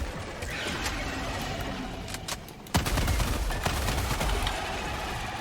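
Gunfire in a video game: scattered shots at first, then a louder stretch of rapid bursts and volleys from about midway, close and harsh with no talk.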